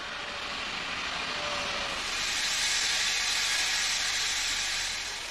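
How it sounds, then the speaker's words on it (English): A steam train sets off on the Somerset and Dorset line toward Bournemouth in 1966, giving a continuous, loud, broad hiss of steam that swells in the middle and holds steady, with no voices. "These evocative scenes were recorded on New Year's Day 1966, with the train setting off on its leisurely journey to Bournemouth."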